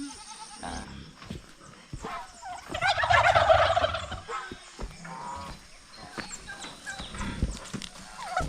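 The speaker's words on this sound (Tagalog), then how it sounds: "Yan yung mga pabo natin na para pang lechon." Turkeys raised on a Philippine farm gobble in a loud burst of rapid, rattling calls at mid-clip, with scattered clucks and barnyard rustle before and after.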